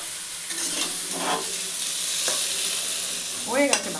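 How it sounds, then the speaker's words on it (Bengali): Pointed gourd pieces fry in mustard oil in a pan, a steady close sizzle with occasional stirring scrapes and no talk. "সর্ষের তেল, পটলগুলো ভেজে নেব"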